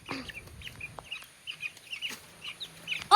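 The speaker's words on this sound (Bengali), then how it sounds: "এবার দেখেন মুরগিগুলো ছাড়তে গেছে" Chickens being let out cluck in short, scattered bursts, fairly quiet and close by, with no talking.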